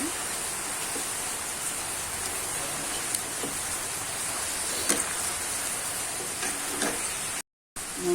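Mango murabba simmering and sizzling in a pan, a steady close-up bubbling hiss with faint stirring clinks, continuous throughout with a brief dropout near the end.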